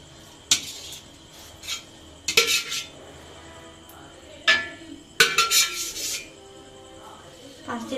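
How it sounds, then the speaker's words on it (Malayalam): Boiled pasta being stirred into a thick cream sauce in a pan for homemade creamy chicken pasta: a spoon scrapes and clinks against the pan in several short bursts, separated by quieter pauses. "ഇനി നമുക്കിതൊന്ന് നന്നായി മിക്സ് ചെയ്ത് ആ പാസ്തയുടെ അടുത്തേക്ക് ക്രീം എത്തിക്കാം"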